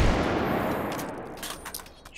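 A grenade launcher fires in the VR game Hot Dogs, Horseshoes & Hand Grenades, a loud, close blast that rumbles and decays over a couple of seconds, with a few sharper cracks near the end.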